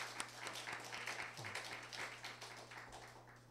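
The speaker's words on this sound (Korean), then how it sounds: "다시 한번 크게 박수하겠습니다." Audience applause after a church training-school lecture, a steady wash of many hands clapping at moderate level throughout, with a low steady hum underneath.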